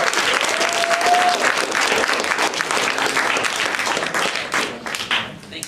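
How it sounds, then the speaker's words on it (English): An audience at a SWIFT meeting breaks into a big round of applause for Joe, dense sustained clapping close and loud that thins out toward the end. "let's give him a big round of applause"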